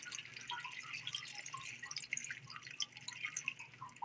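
Filtered water poured from a large Brita pitcher into a cooking pot, a soft continuous trickle and splatter with scattered drips, quiet and close, with no voices.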